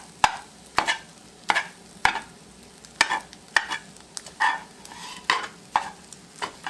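Eggs cook in a pan for bacon fried rice while a spatula pushes and cuts them into fluffy pieces, giving sharp rhythmic scraping clicks about every half second over a faint steady sizzle, with no talking.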